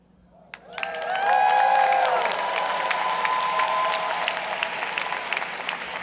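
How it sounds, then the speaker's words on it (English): Graduating Bachelor of Science candidates from Georgia Tech's College of Sciences rise at a fall commencement ceremony with a sudden swell of applause and cheering from a large indoor crowd, holding loud and sustained. "Candidates for Bachelor of Science degrees in the College of Sciences, please rise and cheer."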